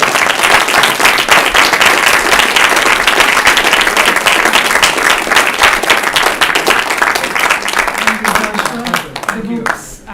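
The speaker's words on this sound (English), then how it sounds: "So, we can clap. Can we clap?" An audience at an author talk claps loudly and continuously for about nine seconds, dense and close, then the applause thins out and fades, with a voice heard briefly at the end.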